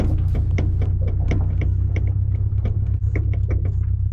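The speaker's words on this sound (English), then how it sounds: "This car is making a clunky noise when I'm driving" Steady low engine rumble of a moving car with repeated sharp clunks and knocks from worn sway bar links underneath, irregular and fairly loud, with no voices.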